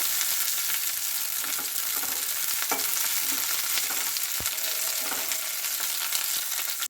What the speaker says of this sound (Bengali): পেঁয়াজ কুচিগুলো হালকা নেড়ে চেড়ে তেলের মধ্যে লাল করে নেব